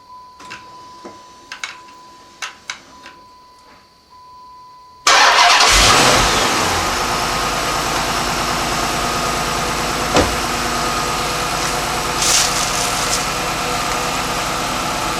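A 2006 Chrysler 300C SRT8 after a battery replacement, a few soft clicks and chimes before the engine cranks and roars to life, then settles into a loud, steady rumbling idle up close.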